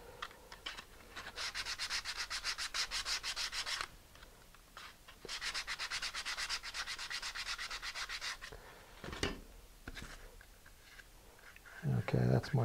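Wooden model parts being sanded by hand, rapid rhythmic scratchy rubbing strokes in two long bursts, close up, followed by brief rustling and handling noises.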